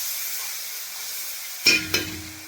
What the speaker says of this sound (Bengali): দিয়ে আমি এখানে মশলাটাকে একটু ভালো করে কষে নেব